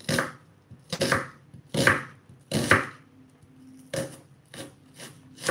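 Knife chopping onion on a board, with about eight firm, evenly spaced cuts up close and no talking.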